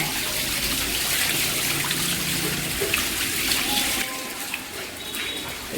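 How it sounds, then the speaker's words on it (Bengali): Water from a rooftop being washed pours down like a fountain, a steady broadband rush and trickle running throughout and dropping slightly near the end, with faint voices underneath. "ও বাবা ঝর্নার মতো জল পড়ছে দেখো"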